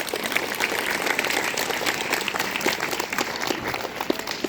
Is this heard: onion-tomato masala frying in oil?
no